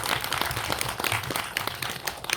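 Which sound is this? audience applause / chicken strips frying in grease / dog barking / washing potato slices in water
audience applause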